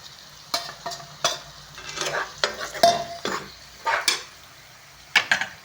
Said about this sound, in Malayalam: വറുത്ത് വെച്ചേക്കുന്ന മീൻ തട്ടി ഇട്ട് കൊടുത്ത് ഒന്നും കൂടെ നല്ലതുപോലെ വഴറ്റി പറ്റിച്ച് ഇറക്കാം